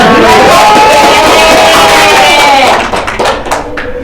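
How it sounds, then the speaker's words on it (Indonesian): A primary school class breaks into applause, dense overlapping hand clapping that runs steadily with children's voices mixed in, then thins and turns patchy toward the end. "Oh, ya, tepuk tangan."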